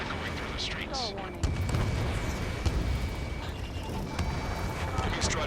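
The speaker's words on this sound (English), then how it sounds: "Gunfire and the roar of jets echoing through the streets." Booming, rumbling gunfire and a roaring jet drone fill a dense battle soundscape in Ace Combat 7, Mission 16, loud and continuous throughout.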